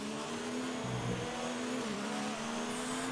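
Haas and Ferrari race cars on the Bahrain short circuit in a racing game, their engines holding a steady high drone with pitch shifts as they jostle for position, loud and continuous with no talk.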